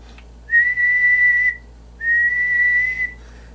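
A person whistles steady held tones into the microphone of an ECI Courier radio transmitter with a single 6146 amplifier while it is tuned; two long, even whistles of about a second each, loud and close, with no talk.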